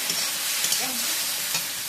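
Turmeric with slit green chillies and dried red chillies sizzling in hot oil in a pan, a steady bright frying hiss with a few soft stirring scrapes, close and alone without voices.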